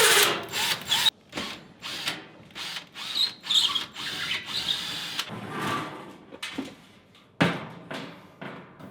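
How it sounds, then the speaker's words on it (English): A power drill backs screws out of a wall in a run of short bursts with pauses between them, close and fairly loud, with ratcheting mechanical whirs and no talking. "I've got all of my holes marked with the screw, so now I can take all those screws out."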